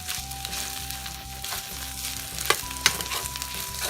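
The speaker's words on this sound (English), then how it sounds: "we're going to keep stirring, but we're going to let it go until the onions begin to brown" Onions and beefsteak frying in a pan for burritos, a continuous bubbling sizzle with a low rhythmic hum beneath, punctuated by two sharp spatula scrapes against the pan.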